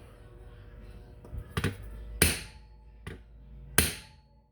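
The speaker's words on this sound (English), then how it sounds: "I'm gonna see if it moves when I smack it" Several sharp metallic hammer blows on a stuck stud, three of them hard and ringing, spaced a second or so apart with quieter taps between, close by.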